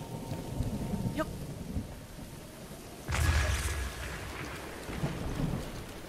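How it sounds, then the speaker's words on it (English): A Zelda Breath of the Wild thunderstorm brings steady rain and a loud thunder crack near the middle, with low rumbles afterward. "No, it's just an annoying thunderstorm."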